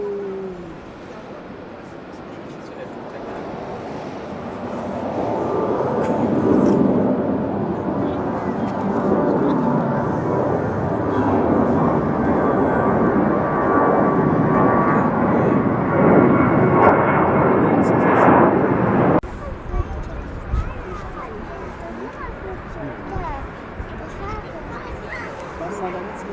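Passenger jet taking off at Cologne Bonn airport, a loud broad engine roar swelling and holding for many seconds before cutting off, with a dog and people talking nearby.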